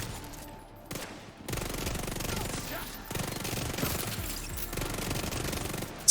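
A Vector submachine gun fires in the shooter game Division 2 in long continuous rapid bursts that set in after a brief pause and keep up a dense, steady rattle for most of the clip.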